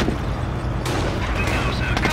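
Video game Company of Heroes World War II battle gunfire, a dense fusillade of rifle and machine-gun shots crackling loudly and continuously, with a sharp burst partway through.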